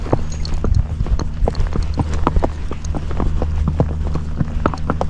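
A Missouri Fox Trotter horse named Simon walks along on a ride, his hooves clip-clopping in a steady, fairly close rhythm over a constant background rumble of wind or movement.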